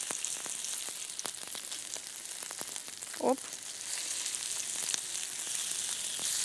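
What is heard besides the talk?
potato pancakes (draniki) frying in a hot pan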